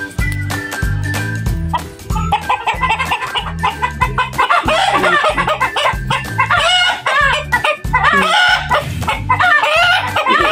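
Backyard garden chickens cluck steadily while a rooster crows, with a dog barking in the mix; the birds are close and loud, a dense continuous flock chorus without speech.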